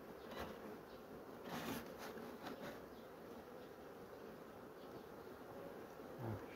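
Honey bees humming steadily inside an opened hive during a colony inspection, a faint, continuous low drone with a few louder passing buzzes and soft handling noises, no talking.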